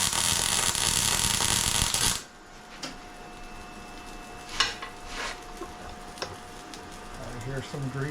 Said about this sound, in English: I hear some grease sizzling.